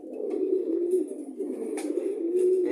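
Pigeons coo indoors in cold weather, a soft continuous run of low, throaty coos from nearby birds, with no talk.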